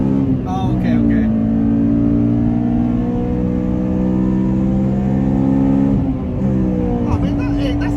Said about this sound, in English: that's a nice exhaust